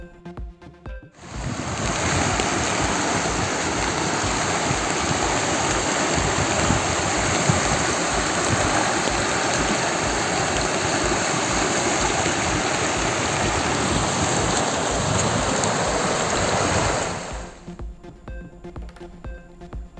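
Loud, continuous rushing floodwater roars without pause for most of the clip, then cuts off abruptly near the end; the flood has washed away a railway track.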